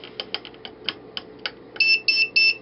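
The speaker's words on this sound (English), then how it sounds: "Beep, beep, beep. Incorrect code." A series of soft keypad taps on an electronic combination lock is followed by three loud, sharp electronic beeps signaling a rejected code.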